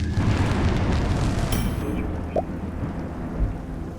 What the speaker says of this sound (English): I think it was just thunder.